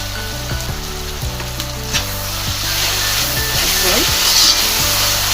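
Ginger garlic paste frying in hot oil with dried tuna, a loud, close, continuous sizzle with occasional scrapes and taps of a stirring utensil against the pan, no talk.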